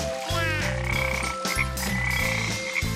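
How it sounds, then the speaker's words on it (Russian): A frog croaks in a repeated, evenly paced series of low, rasping calls, loud and close over a steady tonal backdrop, with no talking. "Лягушка."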